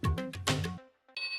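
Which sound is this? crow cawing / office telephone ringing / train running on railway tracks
office telephone ringing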